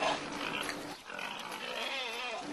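Pigs grunt and squeal on a school farm where students care for pigs, sheep and lambs, a busy, close-up animal racket that runs continuously without a break.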